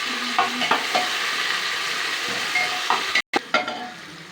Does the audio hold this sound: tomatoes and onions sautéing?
yes